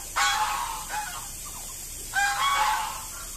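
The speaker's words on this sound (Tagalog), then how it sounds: "Ayan ang pato." Ducks bathing together on a farm, two loud bursts of harsh calling with a quieter call between them, close by, and no talking.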